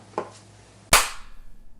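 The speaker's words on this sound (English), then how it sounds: "in post-production when I clapped" A single sharp hand clap, made to sync audio while filming with a Sony RX100 III camera, sounds close and loud after a softer tap, then fades into quiet room noise.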